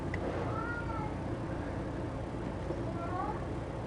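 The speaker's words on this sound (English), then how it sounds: "my cat meows in the background" A house cat meows softly in the background of a kitchen, two faint drawn-out calls spaced a couple of seconds apart over quiet room noise.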